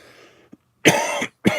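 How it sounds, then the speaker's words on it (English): Two harsh, dry coughs from a person who is ill, close to the listener, the first longer and the second cut short, after a quiet pause. "Man, this damn cough, it's dry. It's a dry cough, too."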